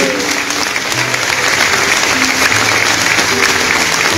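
A crowd in San Juan La Laguna, Guatemala, applauds loudly for their late mayor, the clapping dense and continuous for a few seconds with faint voices and tonal background sounds mixed in.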